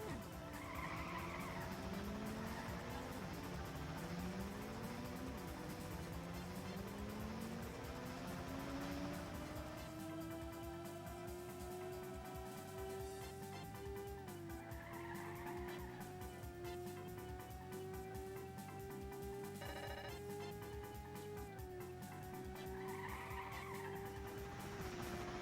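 A car in a racing video game drifts through corners, tires squealing in long rising whines over a steady engine drone, the skid pitch climbing and sliding continuously with no one talking.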